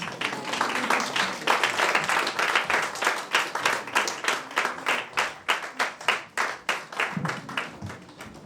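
Audience clapping at a university event after an invocation and yoga performance: a full crowd applauding steadily, then thinning into slower, rhythmic unison claps toward the end, with some talk underneath.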